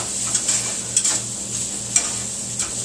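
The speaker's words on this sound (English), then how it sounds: "Listen to that simmer." Vegetables fry gently in oil in a pan over a lowered flame, a steady close sizzle running throughout with a few soft stirring scrapes and light clicks.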